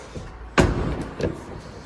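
The door of a Ford Ranger 2.0 EcoBlue 4x4 pickup opens with a sharp mechanical clunk, followed by a lighter click, close and alone.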